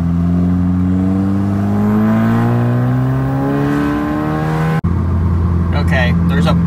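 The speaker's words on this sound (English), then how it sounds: "I'm gonna show you guys some acceleration." A Volkswagen MK6 GLI accelerating on a road, heard from inside as the engine note climbs smoothly through the revs for several seconds, a brief break in the sound, then a lower steady drone resuming with some background noise.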